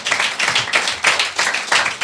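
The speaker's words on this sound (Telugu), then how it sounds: "చప్పట్లు కొట్టి ప్రభువును ఘనపరచుదాం గాక." Congregation clapping in unison during a Sunday Christian worship service, loud rhythmic bursts of hand claps repeating about every half second, with no talking over them.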